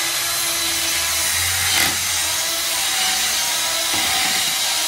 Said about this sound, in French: c'est l'atelier découpe de carrelage